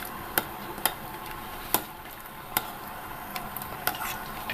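Warm sugar syrup ladled over honey candies in a kitchen, with faint sharp clinks of the ladle against the pot recurring every half second or so over a steady soft hiss.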